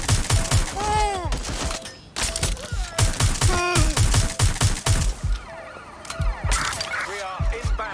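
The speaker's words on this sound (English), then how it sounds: "Suspect has opened fire!" Gunfire in the video game Watch Dogs Legion, with sharp repeated shots over sirens, radio chatter and voices of police calling out, loud and busy throughout with a short pause near the middle.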